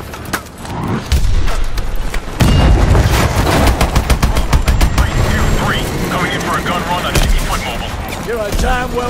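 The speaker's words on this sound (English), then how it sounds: "Explosions! This place is going up!" Explosions and gunfire in Call of Duty: Advanced Warfare combat, dense bursts of shots and heavy booms layered with mechanical clatter, loud throughout, with voices talking amid the action.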